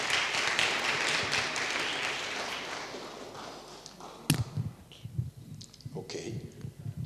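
Audience at a panel discussion breaking into applause, a burst of clapping that fades after a few seconds, leaving scattered taps and thumps with a voice speaking.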